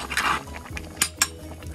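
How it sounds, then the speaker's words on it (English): A utensil stirs ingredients for braised lamb in red wine inside a pot, scraping softly with a few sharp metallic clinks against the pot, close and quiet, no speech. "And we're just going to gently stir them in."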